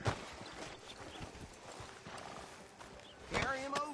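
Horse hooves clip-clop in a video game, walking steadily near a sheriff's office, with a horse whinny rising near the end; someone talks over the sounds.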